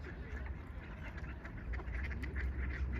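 A flock of ducks quacking steadily nearby on a pond, overlapping calls forming a busy, continuous chatter with low rumbling background noise.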